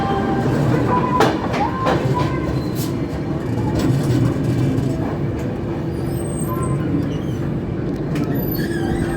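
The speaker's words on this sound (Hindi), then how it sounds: "अभी हम लोग निकल रहे हैं इटारसी जंक्शन से।" Grand Trunk Express pulling out of Itarsi Junction, heard from inside a 3rd AC coach: a steady, loud rumble of rolling wheels on rail, with occasional metallic clanks and faint squeals running throughout.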